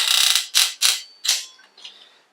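Hand-turned engine internals during a Honda Prelude rebuild with hand lapping, giving four or five bright scraping, rasping strokes of thread friction in quick succession, the last ones fading and quieter, with no talk.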